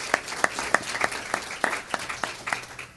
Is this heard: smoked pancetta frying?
no